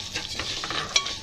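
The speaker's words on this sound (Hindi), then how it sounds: "अब हम इसमें इसमें सिवैया डाल के हल्की फ्राई करेंगे" Vermicelli lightly frying in homemade ghee, a steady soft sizzle with stirring scrapes throughout and a brief sharper clink near the end, close and alone.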